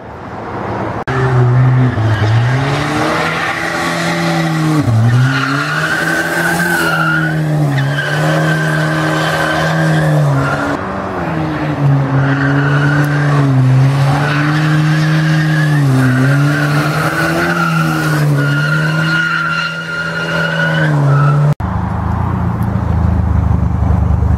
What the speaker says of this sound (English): He's gonna drift this Volvo.